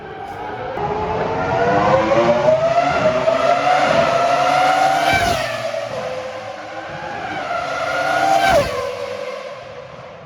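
Ferrari Formula 1 cars from 2003–2004 race past on a circuit, their shrill high-revving engines screaming loudly as each car approaches and fades, with two distinct passes and sharp pitch drops around the midpoint and near the end.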